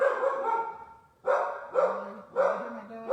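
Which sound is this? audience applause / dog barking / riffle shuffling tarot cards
dog barking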